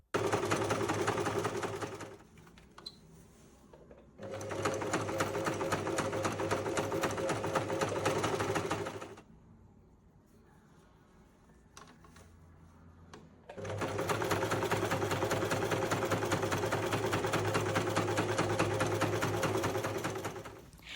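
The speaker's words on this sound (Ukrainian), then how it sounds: "І приступаю до пошиття самого чохла." A sewing machine stitches a fabric laundry basket cover in three bursts of rapid, even clatter, separated by quiet pauses with faint handling noises.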